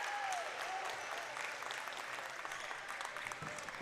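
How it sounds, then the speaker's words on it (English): A crowd at a high school varsity volleyball match in a gym applauds steadily, dense clapping mixed with cheers and shouts, moderately distant and sustained throughout. "Big round of applause for all the participants."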